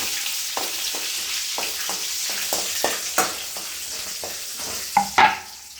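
Peanuts, mustard seeds, cumin and green and dry red chillies frying in hot oil, a constant crackling sizzle broken by rhythmic spoon scrapes and a few sharper pops and clanks near the end, close and fairly loud.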